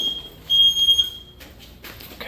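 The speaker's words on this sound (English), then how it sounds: "So we got the alarm." A fire alarm sounds during a waterflow switch test, a thin high electronic tone with a few brief bursts, fairly faint against a quiet room and cut off after about a second.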